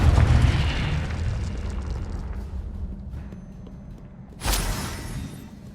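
Spell blasts and explosive booms in the Hogwarts Legacy video game, a heavy rumbling burst followed by a sustained roar and another sharp blast near the end, loud and close.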